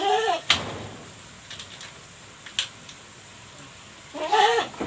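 A goat on a farm bleats in a short wavering cry, falls quiet amid a few faint clicks and knocks, then bleats again loudly near the end.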